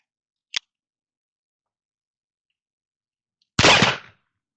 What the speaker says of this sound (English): And that one was a hang fire.